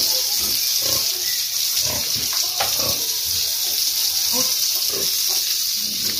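Pigs grunt and squeal at close range amid a steady gush of running water as they are fed and bathed, with the hiss of water continuous throughout and pig noises scattered over it.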